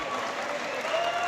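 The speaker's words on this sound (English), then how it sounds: "This crowd's erupting with joy, celebrations" Crowd applause and cheering after a ladies' all-star quintet match, a dense continuous roar of clapping filling the whole moment.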